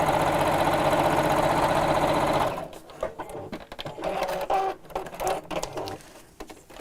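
A sewing machine stitching fabric along a seam line, running loud and steady for about two and a half seconds before stopping, followed by softer rustling and handling of the material.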